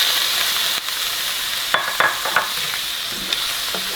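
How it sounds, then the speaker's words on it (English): Shrimp sizzle steadily in a lightly greased pan, a dense hiss with a few brief spatters and stirring clicks, close by with no talk. "we're going to add the shrimp"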